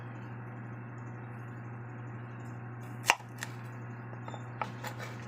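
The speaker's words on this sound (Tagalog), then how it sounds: "Saka sibuyas gawin natin 4 lang na hiwa din." A knife chops an onion into four pieces while cooking milkfish with bok choy: one sharp, close chop stands out, followed by a few fainter cuts over a steady low hum in a quiet kitchen.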